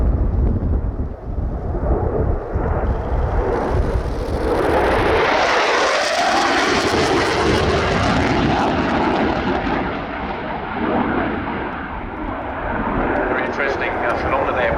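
Jet aircraft making a fast low pass at the RIAT airshow, a loud, broad roar that swells, peaks and slowly fades, with a voice talking underneath.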